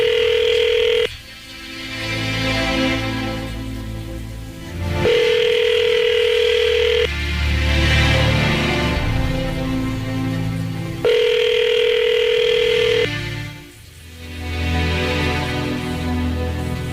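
Tones of a phone call placed to a politician, a steady ringback tone repeating in long spells with busy, crackly line noise between them, fairly loud throughout.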